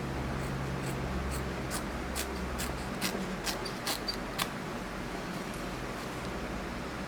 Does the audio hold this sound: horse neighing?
no